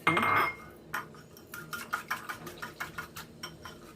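A utensil whisking starch, vanilla and a little water in a bowl, a loud scrape at first, then a quick series of light rhythmic clinks against the bowl, close and alone.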